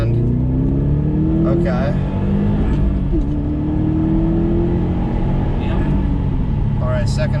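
A car engine revving hard in second gear, rising and falling in pitch over several pulls, heard loud and close from inside the cabin while someone talks over it.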